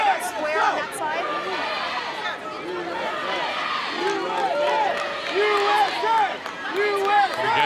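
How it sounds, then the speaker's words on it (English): Section of the crowd at a women's rugby World Cup match between the Black Ferns and USA Eagles cheering and chattering, with a commentator talking over the noise and swells of voices rising throughout. "Again, the cheer goes up from a section of the crowd here."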